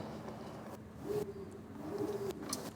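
Birds softly cooing in an aquarium aviary, a faint low coo repeating a couple of times within quiet, steady background noise.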